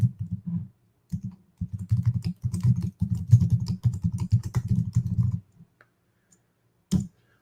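Rapid keystrokes on a computer keyboard come in close bursts of clicking for about five seconds, then stop, with one last short burst of keys after a pause.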